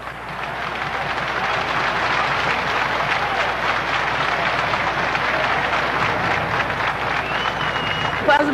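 A Corinthians football crowd at Pacaembu stadium applauds after a goal, a broad sustained roar of clapping and crowd noise that holds steady throughout at fairly high level.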